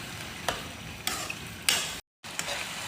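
Spoon stirring chicken powder, paprika and chaat masala into a pan of elbow macaroni, giving a few soft scraping strokes with faint sizzle, close and alone with a brief dropout.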